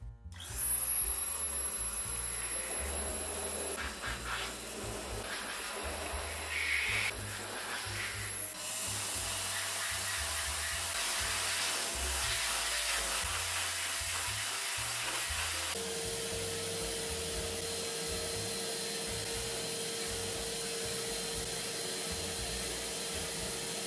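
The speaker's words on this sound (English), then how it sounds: "we'll get as much as we can out with the data vac" A DataVac electric duster blows dust out of a computer with a loud steady whirring hiss that keeps running throughout, shifting in tone as the airflow is redirected.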